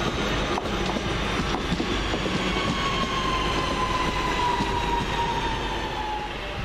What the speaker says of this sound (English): Next train in, the 11:54 London Midland Cross City service from Four Oaks to Longbridge.